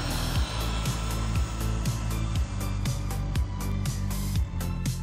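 Electric motor of a radio-controlled car running at full throttle on its stock 2S LiPo battery, a loud continuous high whine with repeated rising pitch sweeps and brief dips, close and steady throughout.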